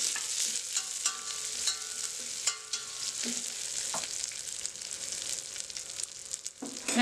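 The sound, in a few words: stirring grated ginger mixture in a pan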